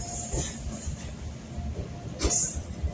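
Matsyagandha Express passenger train running between Mangalore and Barkur, a steady low rumble of wheels and carriages heard from inside, with a couple of brief sharper rattles and a moderate continuous roar.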